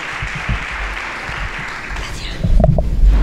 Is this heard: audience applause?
yes